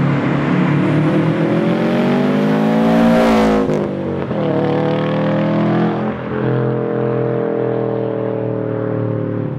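A loud Subaru with a roaring exhaust accelerates hard, its engine note climbing through the gears with a shift near the middle and then holding a steady drone, close and dominant, with no talk.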